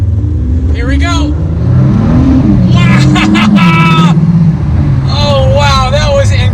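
A 2019 Ford GT supercar accelerates hard, its engine climbing in pitch through the gears with sharp rising revs and brief drops at each shift, loud and close.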